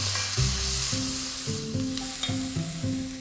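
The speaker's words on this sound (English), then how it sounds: "Now add 2 large sliced onions and 2 cloves of garlic. Give that a good stir round." Onions and garlic sizzle in a hot pan while being stirred, a steady frying hiss broken by spoon scrapes and clatters, close and fairly loud with no voices.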